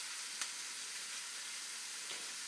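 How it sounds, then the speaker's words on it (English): A steady, bright sizzle of steak frying in a hot pan, broad and constant, with a couple of faint crackles. "The maiden steak is sizzling nicely"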